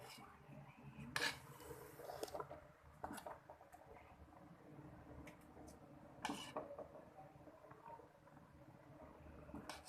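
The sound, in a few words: dishing out mutton biryani from the pot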